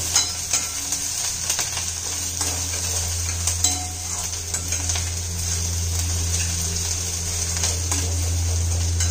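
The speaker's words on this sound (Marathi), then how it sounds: "त्यामध्ये लसूण घालूया. ते सर्व एकत्र भाजून घेऊया." Garlic and ginger roast together in a hot pan for a matki rassa, a steady sizzle with frequent clinks and scrapes of a spoon against the metal over a low background hum, close up with no voices.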